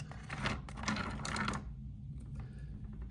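A saw grinds steadily through a piece of Arizona agate with a dense, gritty buzz for about a second and a half, then drops back to a quieter hum.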